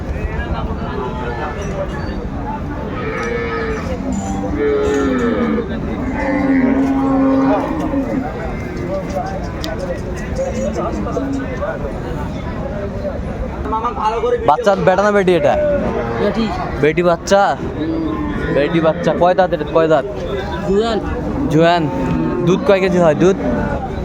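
Cows with calves moo repeatedly at a busy cattle market, the deep lowing calls rising over constant crowd chatter and people talking nearby.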